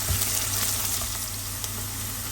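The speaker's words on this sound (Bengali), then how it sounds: "এই পেঁয়াজ রসুন যখন একটু ভাজা ভাজা হয়ে আসবে" Onion and garlic frying in a pan for lauki dal, a continuous close hiss of oil with small pops and occasional stirring clicks, no one speaking.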